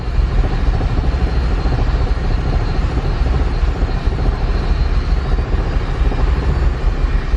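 A built turbocharged K24 engine in an EP3 Honda Civic idles very low and lean, a steady close rumbling drone that holds constant throughout with no revving and no talk.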